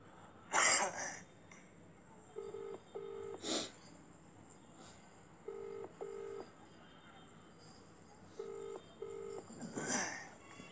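A telephone keypad being dialed at home, sending three quick bursts of short, evenly spaced beeps, each cluster of tones clear and close with brief pauses between, while occasional coughs and throat clearing break in nearby.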